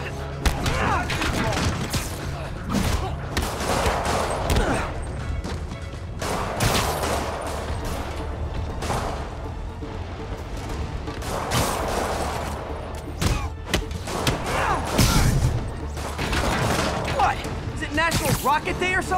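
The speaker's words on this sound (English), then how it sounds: "More rockets? A little excessive," Rockets fire and explode in a Spider-Man video game: repeated loud blasts and booming detonations come in bursts, with mechanical clanks between them.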